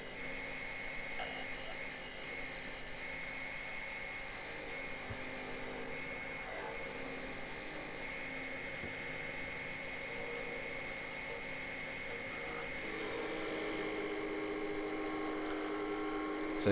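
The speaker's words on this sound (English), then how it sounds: "I'm using my very broken skew as a scraper, just to smooth out" A broken skew chisel held as a scraper against a 20-inch wooden platter spinning on a lathe, giving a steady, close scraping rasp over the lathe's continuous hum, with no talking.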